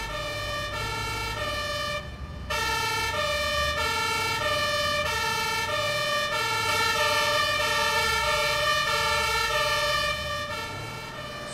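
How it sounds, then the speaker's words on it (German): A fire engine siren in the video game Notruf 112 wails loudly and continuously with steady repeating electronic tones, briefly dropping out near the start before resuming and holding throughout. "Also jedes Fahrzeug hat jetzt irgendwie eine neue Sirene."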